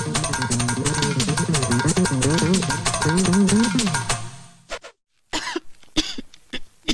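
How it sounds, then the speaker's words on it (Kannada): A woman coughs in a comedy film scene, a long run of rapid, harsh, rhythmic coughs up close, then a brief silence followed by a few more scattered coughs and noises. "ಏನಾಗಿದೆಯಮ್ಮ? ಕೆಮ್ಮು."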